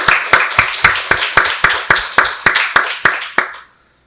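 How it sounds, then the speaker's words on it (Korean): Church congregation at a Sunday worship service clapping hands in unison, a loud, even rhythm of about a dozen sharp claps that ends abruptly in silence. "박수로 하나님께 영광 돌리겠습니다."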